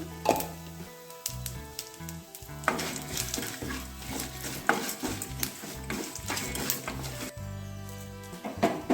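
Dry red chillies and cumin fry in a pan for a radish chutney with a steady, crackling sizzle, broken by the scrape and clatter of stirring. Nobody speaks.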